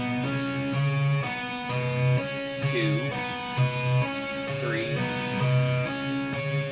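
Electric guitar plays a repeating riff of bright, bell-like tapped harmonics, clean and evenly paced with sustained ringing notes.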